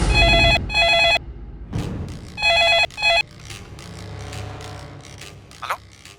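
A telephone bell rings in two loud bursts, then twice more after a pause, followed by softer handling and rustling noises.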